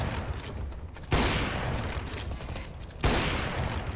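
Video game gunfire: a dense, continuous fusillade of shots with two sharp louder blasts standing out, loud and close, with no talk over it.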